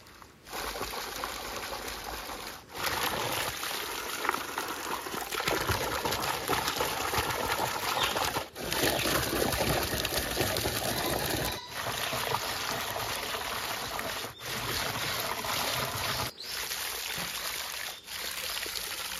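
Mutton pieces being washed under running water, a continuous soft trickle and splash with brief pauses, fairly quiet and close, no voices.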